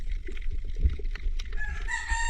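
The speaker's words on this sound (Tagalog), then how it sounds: "Naandyan na naman ang manok." A rooster crows loudly nearby in one drawn-out call at the end, its rising, strained tones following a stretch of low rumbling background noise at a night spearfishing spot in the Philippines.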